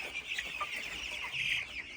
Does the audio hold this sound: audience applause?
no